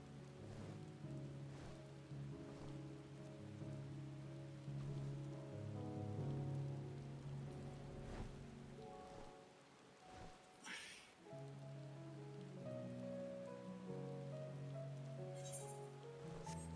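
Steady rain patters on a surface at low volume beneath tonal game music, with a brief dip in the middle before the music and rain resume.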